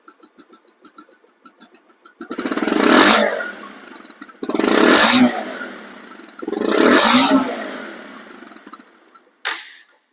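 A 2021 motorcycle with double disc brakes idles with rapid putters, then revs hard three times in long roaring bursts, followed by a short final blip.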